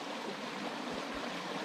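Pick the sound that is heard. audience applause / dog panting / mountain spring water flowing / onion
mountain spring water flowing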